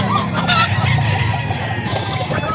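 A red kelso gamefowl rooster clucks and makes short throaty calls close by, mixed with other fowl sounds and busy background noise outdoors.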